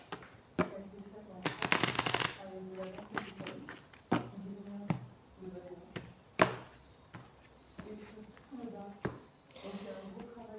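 A deck of Lenormand cards being shuffled for a card reading makes several short, crisp riffling bursts and taps spread across the stretch, with a voice talking between and over them.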